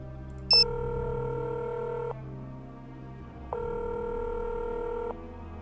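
A phone call in the Nancy Drew game The Shattered Medallion: a brief dial beep, then two long electronic ringback tones separated by a pause, under a steady low hum of game ambience.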